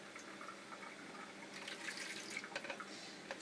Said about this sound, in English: Putting in a bit of cold water? Just a little bit.